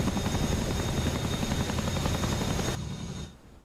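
A Chinook helicopter flies in the video game DCS World, its rotors and engine making a loud, steady droning thrum that drops off abruptly near the end.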